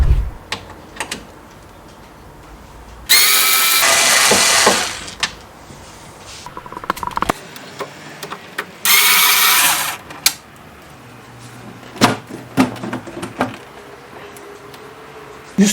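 Two hidden screws being backed out of a combi boiler's front cover with a power driver: two loud, steady whirring bursts of a few seconds each, separated by a pause with faint handling clicks and taps, close by and without talk.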